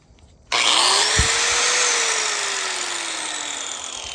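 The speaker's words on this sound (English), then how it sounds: "And then you take your disc grinder with the blade," A disc grinder fitted with a 4-inch diamond blade spins up abruptly and cuts into cement board siding, holding a loud, steady high whine that slowly sags in pitch under load.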